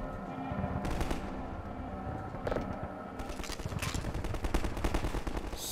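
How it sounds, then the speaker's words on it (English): Combine soldiers firing in the video game Half-Life 2, rapid bursts of automatic gunfire crackling continuously at moderate distance, with sharper shots standing out now and then. "There's still gunfire being gunfired. Oh, those are combines."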